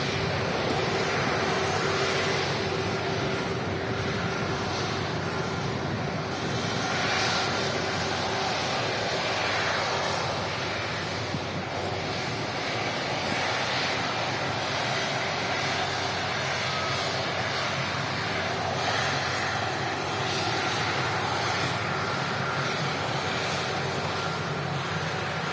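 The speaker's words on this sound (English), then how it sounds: "There's the Turkish Airlines A330-300 series. In from Istanbul today." A Turkish Airlines Airbus A330-300 in from Istanbul at Manchester Airport, its engines giving a steady broad roar that holds level and unbroken throughout, fairly loud, with no voices.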